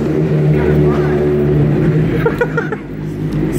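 Close motorcycle engine idling and revving outdoors, a loud steady rumble with rising bursts, while people talk nearby.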